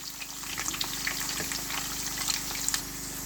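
Potatoes frying in a pan for a cheesy potato omelette, a soft steady sizzle with faint crackles and a low hum underneath, fairly quiet, with no speech.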